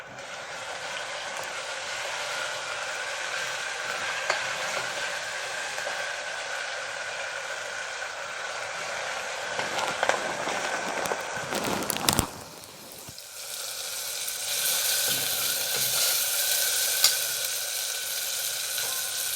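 Curry leaves and green chillies crackle and sizzle in hot oil in a pan, a steady close hiss with popping bursts and a loud stirring clatter midway, continuing without voices.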